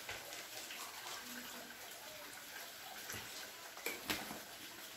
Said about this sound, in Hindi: अब पानी डालूंगा भाई ठंडा इसमें बिल्कुल।